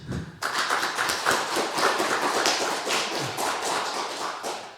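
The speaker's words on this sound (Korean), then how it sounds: "박수 한번 더 쳐드립시다." A Sunday morning church congregation gives a round of applause, a dense, even wash of many hands clapping that starts abruptly and holds steady at moderate volume before easing slightly at the end.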